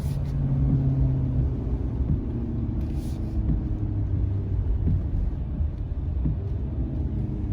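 A 2019 Ford F-450 Limited pickup towing 34,000 lbs uphill under light throttle, a steady low engine and road rumble from inside the cab.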